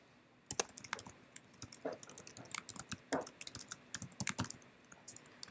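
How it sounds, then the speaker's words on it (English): Quick bursts of typing on a computer keyboard, close and clear, with uneven clusters of key clicks separated by short pauses. "And then I'll type"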